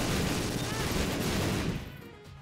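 A huge bomb goes off in The Binding of Isaac during a Dr. Fetus build, a loud, dense, sustained explosive roar that rumbles on for about two seconds before thinning into a quieter tail.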